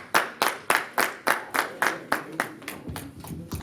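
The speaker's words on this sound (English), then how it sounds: "Please give me a round of applause." Steady, evenly spaced claps from a leadership summit audience in Atlanta, about a dozen crisp hits that gradually soften and thin out toward the end, fairly close and with no talking.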